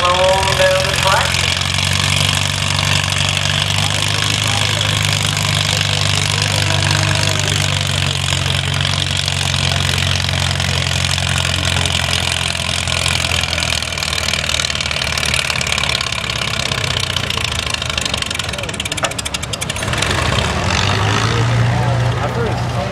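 A pulling tractor at a 2011 field day tractor pull roars down the track with a loud, heavy, sustained engine drone that shifts near the end, under an announcer's amplified voice.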